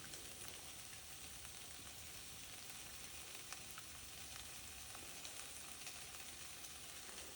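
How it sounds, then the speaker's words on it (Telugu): Soaked tamarind juice is poured into a pan of sizzling spices while okra gravy cooks, giving a steady, dense frying hiss that holds evenly throughout with no voices. "ఇప్పుడు నేను ఇంతకుముందు నానబెట్టుకున్న చింతపండు పులుసు పోసేసుకుంటున్నా"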